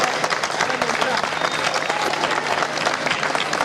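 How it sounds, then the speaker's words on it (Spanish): Festival crowd at an open-air orchestra show in Teo, A Coruña, Galicia, applauding in a dense, steady wash of clapping with cheering voices mixed in. "Aplauso grande para eles."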